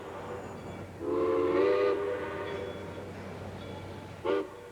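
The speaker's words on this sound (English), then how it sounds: "with this grand parade of steam engines, Steam Expo in Vancouver got off to a roaring start" Steam whistles sound over a distant rumbling of trains during a parade of steam locomotives led by the Royal Hudson at Steam Expo in Vancouver, one long chord-like blast followed later by a short second toot.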